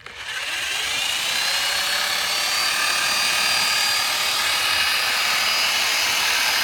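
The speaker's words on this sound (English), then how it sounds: "Now with this mixer, this draws the foam down into the cement." Little Dragon foam concrete mixer running while drawing foam into cement, a loud, steady roaring whine that starts up and holds close throughout.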